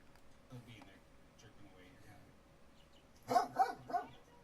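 A dog barks indoors in a short burst of three or four sharp barks near the end, after a stretch of quiet background with faint murmuring.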